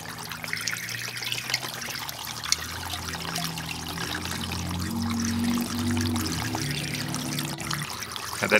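Water flowing and trickling through a fine gold recovery bowl loaded with sand and sediment, a steady close pouring wash that swells slightly midway and holds on without any voices.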